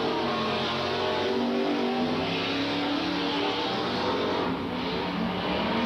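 Super stock race cars roar around an oval track, a loud, continuous engine drone with layered revving tones from several cars on the back straightaway, steady and dense throughout with no speech.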